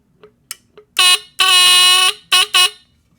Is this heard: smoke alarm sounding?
yes